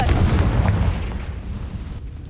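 A Confringo blasting spell explodes in Hogwarts Legacy, a loud, close burst with deep rumbling that fades over about two seconds, with no speech over it.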